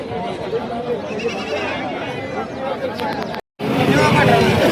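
A large goat buck bleats loudly at a livestock market, with repeated calls over steady crowd babble and nearby talk, a brief silent gap near the end before the noisy market resumes.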